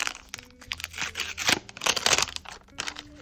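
A paper surprise packet with a Roblox collection inside is torn open by hand, giving several crinkling, ripping bursts of paper that swell and fade in uneven waves, close and fairly loud with no talk.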